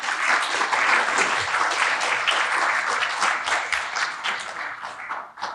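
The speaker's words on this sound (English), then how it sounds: "Let's have another round of applause for them." Warm applause at a Leadership Mountain View graduation ceremony honors the graduating class, a dense, lively burst of clapping from a seated audience that carries strongly for several seconds before starting to thin out.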